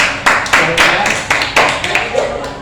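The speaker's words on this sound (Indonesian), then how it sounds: "Oke, tepuk tangan dulu dong." A group of sixth-grade children clap their hands in uneven bursts, close and fairly loud, the claps merging into brief ragged volleys with voices mixed in.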